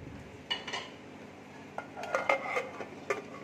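A pot of masoor dal cooked with taro (kochu) clanks and scrapes as it is set down on a gas stove, with several sharp metallic knocks and clinks spread across a few seconds and no talk.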